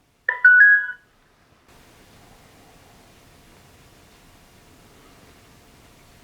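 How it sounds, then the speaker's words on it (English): An ONWOTE 5MP wireless WiFi security camera powering on, giving a short bright electronic startup chime followed by faint steady hiss. "and now I'll turn the camera on."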